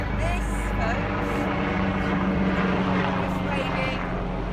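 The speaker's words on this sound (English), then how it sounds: "is waving to the helicopter that's going overhead" A helicopter flies overhead during an outdoor group exercise session, its steady rotor and engine drone filling the background throughout, loud and continuous.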